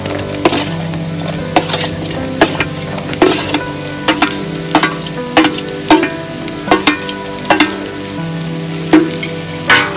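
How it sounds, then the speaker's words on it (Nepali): Chopped onion deep frying in hot oil for an Indian Nepali style chicken curry: a steady sizzle broken by regular clacks of a spoon stirring against the pan, a couple per second, close and loud. "डीप फ्राई गर्नुपर्छ"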